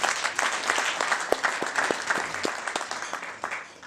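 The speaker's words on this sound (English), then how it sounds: "If you can also clap hands for them." Applause at a cocktail party and trade fair launch honoring exhibitors, a room full of hands clapping steadily, with individual sharp claps standing out close by.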